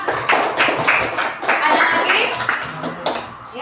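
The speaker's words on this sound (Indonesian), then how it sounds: "Oke, tepuk tangan." Students clapping in a classroom, a short round of moderate applause mixed with voices and chatter, fairly close and uneven in rhythm.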